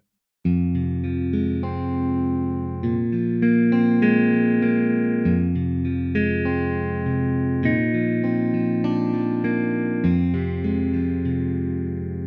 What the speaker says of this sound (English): the guitar is recorded through the vibrato channel of a Fender Twin reverb amp